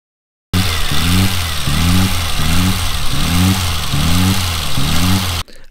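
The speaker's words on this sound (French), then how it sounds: "Alors tu vois ça, c'était mon ralenti moteur" A vehicle engine idles erratically in a rhythmic cycle, its revs surging and dropping about once a second, loud and close, running alone for several seconds before cutting off abruptly.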